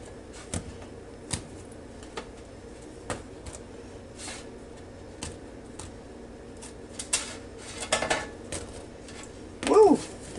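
Warm, slightly crispy homemade cheddar cheese biscuits go into a bread basket with scattered faint taps and light clatter, growing a little busier near the end.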